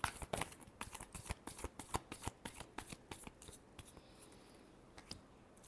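Tarot cards being shuffled by hand, a quick run of crisp riffling and slapping bursts, close and soft, that thins out toward the end, with no talking.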